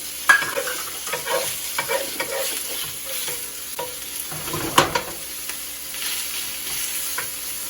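Steady sizzling and crackling of chicken frying in a hot skillet, with scraping and stirring noises throughout and no talking.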